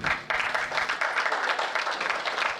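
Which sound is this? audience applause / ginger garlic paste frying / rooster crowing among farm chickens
audience applause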